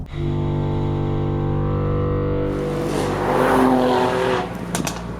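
A Mercedes-Benz GLE 450 AMG Coupe engine holds a steady droning note while driving, then swells with a brief rise in revs and road roar before settling again; no voices.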